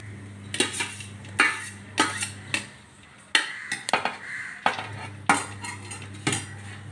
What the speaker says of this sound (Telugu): ఈ మిక్స్ చేసిన దాని మీద ఇప్పుడు నేను రైస్ వేసేసుకుంటాను